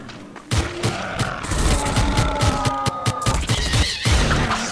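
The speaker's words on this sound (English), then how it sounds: "Dubstep gun." A dubstep gun fires in Garry's Mod during a zombie survival game, loud and continuous with rapid stuttering wobble pulses and buzzing tones over several seconds.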